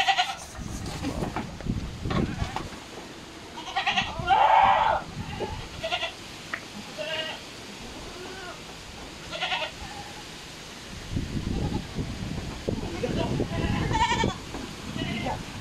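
Large goats bleat in a few scattered, wavering calls on a farm where they are being sold, with people talking intermittently and background handling noise between the cries.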